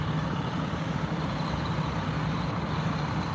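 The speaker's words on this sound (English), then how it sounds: "So that's a fire truck, that's a fire engine," A fire engine and other emergency vehicles idle at a fire scene, a steady loud diesel rumble with broadband traffic-like noise that holds unbroken throughout, with no voices.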